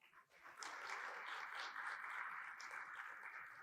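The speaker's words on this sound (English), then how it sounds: "Ladies and gentlemen, a round of applause for our judge" Applause for the judge at a city duchesses competition, a crowd clapping steadily that builds quickly after a brief quiet start and stays even, somewhat distant and moderately faint.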